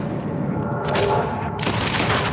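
Rapid bursts of gunfire in Red Dead Redemption 2, a short volley of shots cracking loudly over a steady din, with no talk.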